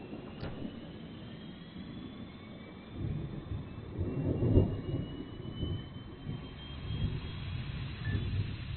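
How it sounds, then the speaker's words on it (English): A-10C Thunderbolt II jet engines spooling up on the ground before taxi, heard as a low rumbling roar that swells and ebbs steadily, with no talk over it. "Spooling engines."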